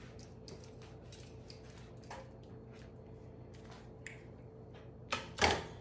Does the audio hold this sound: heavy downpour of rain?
no